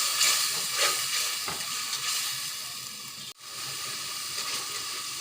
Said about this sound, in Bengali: আদা রসুন বাটা দেবো 1 চা চামচ, মরিচের গুঁড়া দিয়ে দেবো স্বাদ মতো। নেড়ে ছেড়ে কষিয়ে নেব।